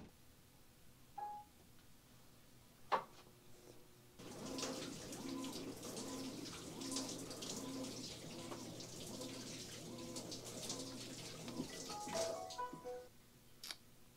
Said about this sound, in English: Big old rush of water came out from underneath it.